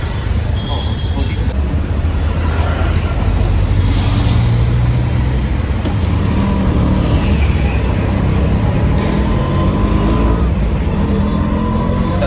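Inside a moving auto rickshaw, a loud, steady engine drone and road noise run unbroken throughout, with traffic sounds all around.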